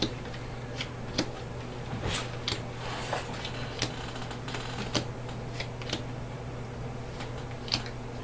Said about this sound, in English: So you might put that on top and then shuffle it.